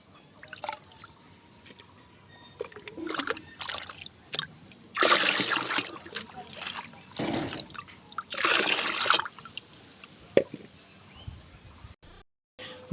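Liquid lime solution poured from a container onto the soil of a potted lemon plant, giving uneven splashing and trickling bursts with drips between them, close by and fairly quiet, with no speech.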